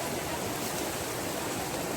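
A clear river stream flows beside a riverside campsite, producing a steady, close, broadband rush of water with no pauses or voices.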